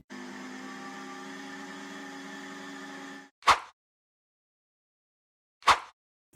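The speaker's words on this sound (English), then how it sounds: "Then we're going to process it in the food processor or a blender" A food processor whirs steadily for about three seconds while processing snowy mooncake dough, then stops; two short sharp knocks follow a couple of seconds apart.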